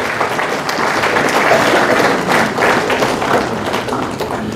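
Congregation clapping together at a church funeral service, a dense, steady wash of many hands that holds loud and even throughout, with a slight swell near the middle.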